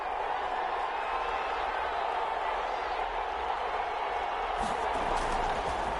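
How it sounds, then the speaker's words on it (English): Stadium crowd noise in a PS4 football video game, a steady roar of the crowd running under a game commentator's talk. "Crowd getting in it a bit already."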